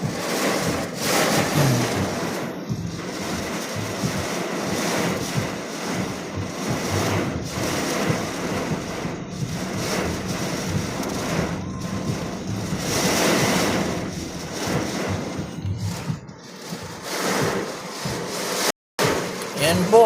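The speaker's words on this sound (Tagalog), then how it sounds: "Galit na galit po yung hangin at saka ulan" Strong gusting wind roars and buffets the microphone through heavy rain on a wet afternoon, a dense, continuous wash of noise with surging bursts, and a voice speaks over it.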